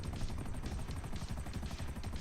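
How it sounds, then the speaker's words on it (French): Helicopters in the video game GTA 5 Online beat with a steady rapid rotor chop, a dense droning thrum that fills the clip, faint overall, with no talk. "Ah si, il y a encore des hélicos."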